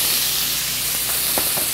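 Food poured into smoking-hot oil sizzles and fries, with scallions in the pan for a dish seared crisp on one side; a steady, close hiss fills the clip with a few brief spattering pops near the end.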